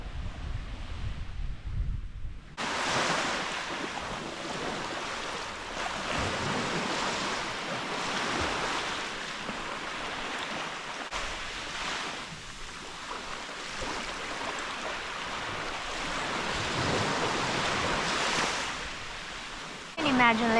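Ocean waves wash onto the beach of Cayo Gallego island, Panama, as a steady broadband surf roar that runs throughout, mixed with wind buffeting the microphone.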